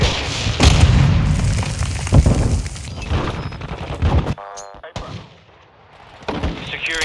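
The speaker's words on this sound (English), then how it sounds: "Grenade incoming!" A grenade explodes during a Call of Duty Modern Warfare 2 Domination match on Shoot House: loud, dense booms and bursts of gunfire crowd together, then drop briefly to near silence before more scattered blasts return.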